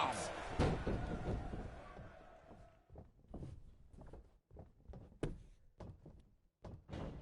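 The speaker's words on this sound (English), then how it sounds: "Sit down, power bomb!" A wrestler slams an opponent with a power bomb in the WWE 2K20 video game, giving a heavy thud followed by a series of softer impacts and thumps, heard under excited commentary.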